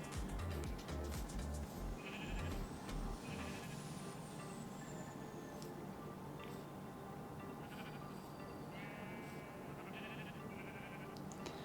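Sheep bleating in Minecraft Java survival, several short game bleats scattered over a steady background hum with no talk.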